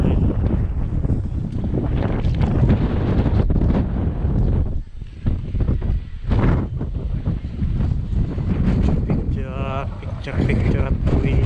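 Strong gusts batter the microphone outdoors in a loud, continuous roar that dips briefly between blasts, with voices partly buried beneath the buffeting.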